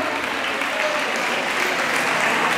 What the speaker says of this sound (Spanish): A ver ese fuerte aplauso.